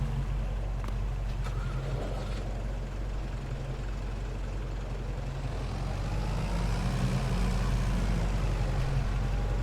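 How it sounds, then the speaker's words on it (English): Fiat tractor engine idling in Farming Simulator 22, a low steady rumble that holds throughout with a slight swell toward the end, no talk. "because I can leave the engine running,"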